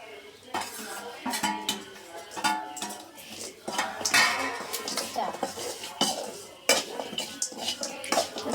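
A spoon scrapes and clinks against a pan as fried white tuna is stirred into spice masala for fish pickle. The metallic knocks are busy and irregular, close by, with a soft sizzle underneath.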